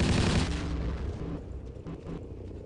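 Pistol fire in the video game Battlefield 1942, a burst of loud shots at the start that fades into a rumbling decay, no voices over it.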